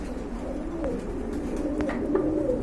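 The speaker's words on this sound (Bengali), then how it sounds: "এক সময়কার অনেকের পছন্দের কবুতর নান কবুতর, ব্ল্যাক নান" Soft, low cooing of black nun pigeons murmurs through a steady background hum, with a few faint higher chirps scattered across the clip.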